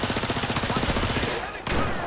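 A UMP-45 submachine gun fires in Battlefield 4 as a steady rapid burst of shots, loud and close. It breaks off briefly and then resumes.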